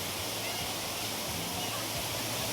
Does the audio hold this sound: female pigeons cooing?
no